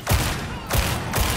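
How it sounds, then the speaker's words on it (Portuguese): Explosions and bursts of gunfire in the video game Warhammer 40K: Darktide, with three heavy booming blasts about half a second apart over a continuous loud, noisy roar of combat. "a sensação de explosões está brutal."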